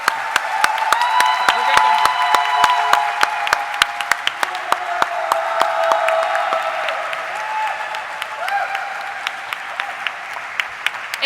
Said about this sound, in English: Have a round of applause for Sunil sir.